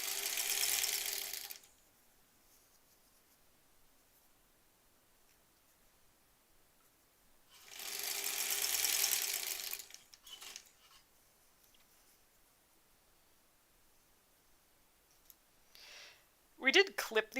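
A sewing machine joins quilt segments in two short bursts of stitching, each a couple of seconds of busy whirring separated by quiet, followed by light clicks and fabric handling near the end.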